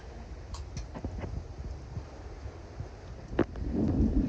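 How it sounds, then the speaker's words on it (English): Wind buffets the microphone on a sailboat running a broad reach in 19 knots of wind at about 7 knots at sunrise, a steady rushing roar with brief gusts and building water wash toward the end, no talk. "This is perfect sailing. Broad reach, 19 knots of wind, going 7 knots of speed."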